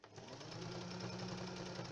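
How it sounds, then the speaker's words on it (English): Sewing machine running steadily, set in motion by its foot controller, a close, even mechanical whir and rapid stitching hum for two seconds with no talk. "Foot controller. This is what you use to set the sewing machine in motion."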